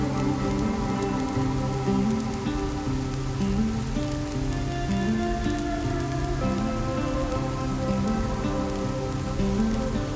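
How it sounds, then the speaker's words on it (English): Steady rain falls through the night on a riverside trail, a dense, even patter on surfaces close by that continues unbroken without any voices. "That night, it rained and it rained"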